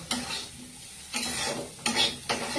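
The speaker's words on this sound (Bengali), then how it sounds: "একটু সাম্বার পাউডার দিয়ে তোমরা একটু নেড়ে ছেড়ে নেবে" Fried potatoes with sambar powder and curry leaves are stirred in a sizzling pan, with four scraping bursts of the spoon against the pan over a constant nearby frying hiss.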